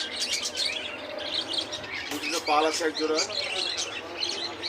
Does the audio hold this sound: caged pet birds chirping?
yes